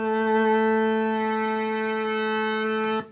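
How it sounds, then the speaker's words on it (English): A sustained synthesizer note holds a steady pitch while its formant is shifted, the upper tone colour brightening and changing over about three seconds before it cuts off abruptly. "we can change the formant and it will change the sound of it like this"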